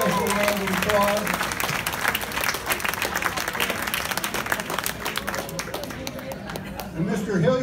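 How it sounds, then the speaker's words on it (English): A round of applause breaks out from an event audience, dense and sustained clapping with crowd chatter mixed in, easing slightly toward the end before swelling again. "I think that deserves a special round of applause."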